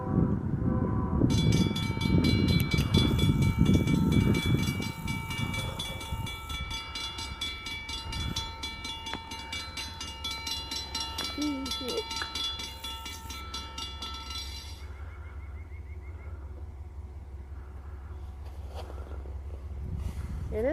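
An Amtrak train rumbles past with a low steady roar, and a long, loud sustained horn blast rises over it for much of the pass.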